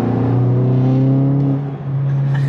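A Volkswagen Golf GTI Mk7 engine with a carbon fiber intake holding a strong, steady low drone close by, then dipping briefly before pulling again as the car accelerates.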